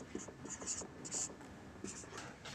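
Chalk or marker writing math on a board in a class 11 binomial theorem lesson: short scratchy strokes and taps in quick irregular bursts, fairly close, with no talk over them.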